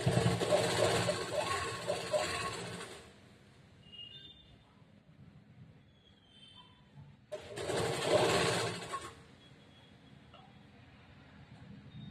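A sewing machine stitches a princess-cut blouse in two bursts of rapid, steady whirring, each lasting a few seconds, separated by quiet pauses with faint handling sounds.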